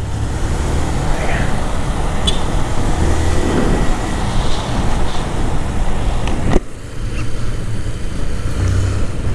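A car driving close behind a motorcycle on a road at night, its steady rumble blended into constant wind and road noise for the whole stretch, with a brief sharp knock near the end.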